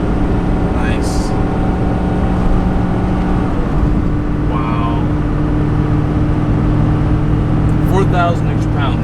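A 2021 Ford F450 Platinum pickup accelerates up a 6% grade while towing a 14,000-pound fifth-wheel trailer, its steady engine and road drone heard from inside the cab, with occasional chimes and people talking over it.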